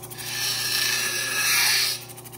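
A cabochon stone is domed against a spinning lapidary grinding wheel, giving a close, steady hissing grind with a faint motor hum beneath, swelling for about two seconds before easing off.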